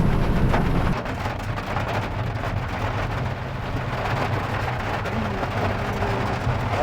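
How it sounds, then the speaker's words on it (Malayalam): Steady, dense rainfall hisses continuously outside in Nilambur, Kerala, with a low rumble underneath and no voices. "പുറത്ത് നല്ല മഴ എന്ന് പറഞ്ഞാൽ നല്ല മഴയാണ്"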